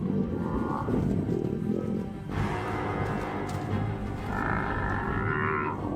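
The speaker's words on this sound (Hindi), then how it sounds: "जंगली भैंसे शेरों पर जवाबी हमला करके उन्हें खदेड़ देते हैं।" Wild buffalo herd charging and attacking Mapogo lions in the African bush, heard as a loud, continuous rumble of bellowing, mooing animals and growling roars, with several calls overlapping throughout.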